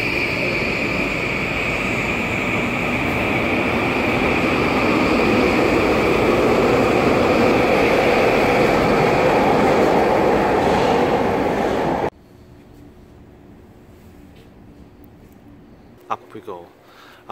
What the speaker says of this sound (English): The train leaves.